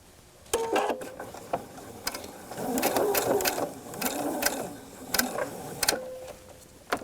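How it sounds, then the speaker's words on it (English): A sewing machine stitches the quarter-inch sides of pocket seams in several short runs of rapid mechanical chattering, with brief pauses between bursts and a soft hum while it idles. "I'm just sewing both 1/4 inch sides right now"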